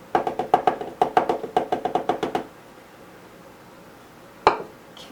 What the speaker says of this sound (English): add about 1/4 of a cup of this Hershey's cocoa powder to it, and I'm just going to mix that in with the sugar